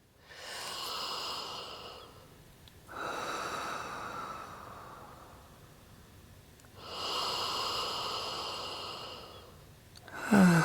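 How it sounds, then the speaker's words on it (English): Three long, slow, deep breaths, each a broad airy rush lasting a few seconds with quiet gaps between, close and fairly soft, ending in a louder exhale. "Take 3 deep breaths in."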